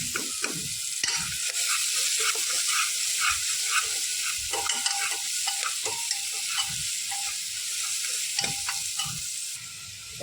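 Onion sautéing in oil until pink for paya soup, a bright continuous sizzle with scattered light scrapes and ticks of stirring, steady throughout with no voices.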